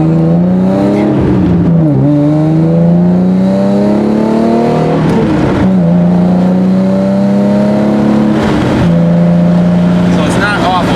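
Nissan 350Z with a God Snow catback exhaust revs through its gears, a loud raspy drone climbing in pitch, dropping at each shift and climbing again, heard from inside the car.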